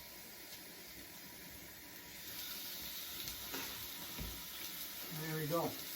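Steaks seasoned with Bushkateer spice sizzle on a wood heater in a small cabin during a blizzard, a low, steady frying hiss that swells a little toward the end.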